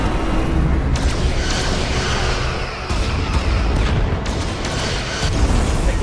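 Starship under heavy weapon fire in the Star Trek Resurgence video game, with dense continuous rumbling booms and impacts filling the whole stretch, loud and close without letup.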